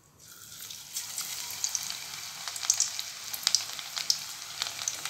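Banana flower pakodas fry in hot oil with a steady, dense sizzle and crackle that builds after a quiet start, close and continuous with occasional sharper pops.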